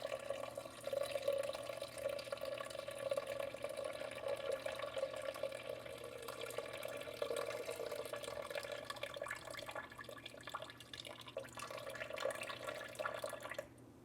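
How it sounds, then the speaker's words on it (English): Cool to room-temperature water is poured into a bowl for beginner same-day sourdough dough, a steady faint trickle running for about fourteen seconds with no talking. "Now I want to add 400 grams of water."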